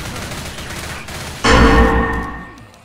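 Gunfire in the zombie shooter game Left 4 Dead 2, starting as a steady patter of shots and then a loud, dense burst of rapid fire that slowly tails off.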